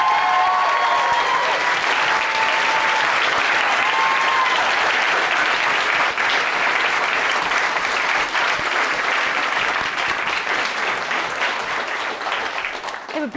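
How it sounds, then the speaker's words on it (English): Sustained, loud audience applause fills a hall at the close of the final performance of a Shakespeare competition grand final, steady dense clapping with a faint voice early on. "Let's give them all an enormous round of applause, please."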